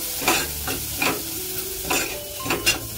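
Asafoetida and turmeric fry in hot oil for broccoli sabji, a close, continuous sizzle with repeated stirring strokes scraping the pan at a loose rhythm.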